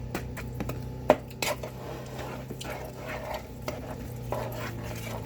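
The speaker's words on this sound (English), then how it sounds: "You're gonna mix until it's all mixed in together." Banana bread batter with mashed bananas is stirred in a bowl, giving soft, irregular scraping and clinking of a utensil against the bowl, with a couple of sharper knocks over a steady low hum.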